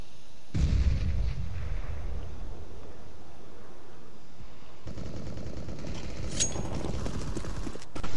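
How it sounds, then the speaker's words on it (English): A grenade in a CS:GO match lands with a heavy, close thump and a rumbling blast early on. Later comes a second burst of dense combat noise with a brief bright ping. "Throwing a grenade."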